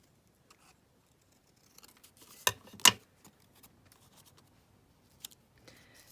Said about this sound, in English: And then just cut this one out.